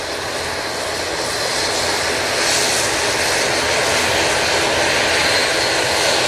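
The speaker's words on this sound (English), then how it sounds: "two Dreamliner coming in from Cancun" A Boeing 787 Dreamliner arriving from Cancun at Manchester Airport, a loud, steady jet roar that swells slightly after a couple of seconds and holds broad and continuous, with no talking.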